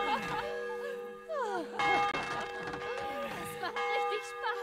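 Bells ring repeatedly in the medieval role-playing game Kingdom Come: Deliverance, their tolls layered over game music and effects, with some clanging strikes standing out, and people talking over parts of it.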